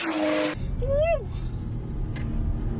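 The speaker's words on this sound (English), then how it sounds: "And the sound of that external wastegate is crazy." A 650 WHP BMW M240i with a GTX1000 big turbo and external wastegate accelerates in second gear out of a corner, a rumbling engine with a sharp rising whistle and a brief hiss.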